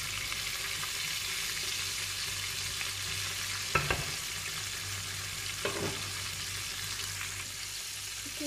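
Chicken fries KFC-style in hot oil, giving a dense, even sizzle with no break, close to the ear, and two brief knocks partway through, with no voices.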